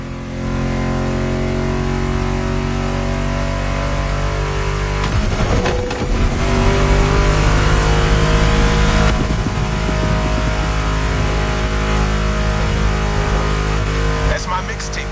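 Muscle car engines in The Crew Motorfest video game rumble and rev steadily, with a louder surge midway, under a music soundtrack and a voice talking.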